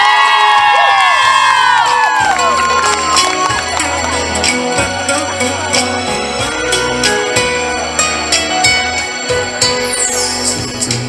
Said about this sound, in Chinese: 给他们一个热情的掌声加尖叫声。